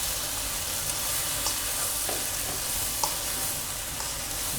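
Fish pieces coated with coriander and turmeric sizzle steadily in a hot pan as they are stirred, giving a dense, even frying hiss with small scraping clicks and no talking.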